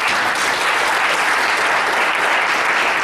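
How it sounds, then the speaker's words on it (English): Loud, sustained applause from a large audience, an even roar of many hands clapping throughout. "Let's give her a round of applause."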